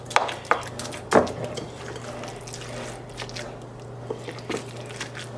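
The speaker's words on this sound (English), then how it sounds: "we are going to start mixing. Using a wooden spoon" Wooden spoon mixing ground beef and rice filling for stuffed peppers, a few wet squishing and soft slapping strokes spaced out over a low steady hum.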